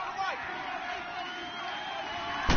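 Football stadium crowd roaring steadily throughout a Seahawks vs Cardinals game, a dense continuous wall of cheering with a louder surge at the end.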